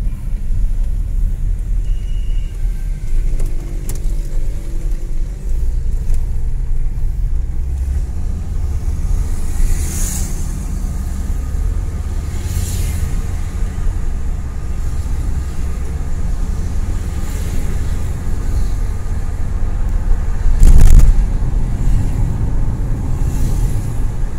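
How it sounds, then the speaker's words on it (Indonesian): A 1997 Volvo 850 GLT 2.5 with automatic transmission drives on a test run, a constant low rumble of engine and road noise from inside the cabin, with a brief louder swell near the end and no talking. "sekarang kita akan test drive dan membuktikan bahwasanya mobil ini sangat oke sekali kondisinya"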